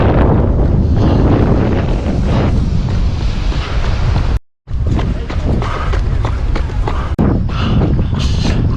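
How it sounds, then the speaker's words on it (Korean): Strong head-on wind blasts steadily across an outdoor microphone near the sea, a loud broadband roar running throughout with one brief dropout midway. "바람이 정면에서 옵니다"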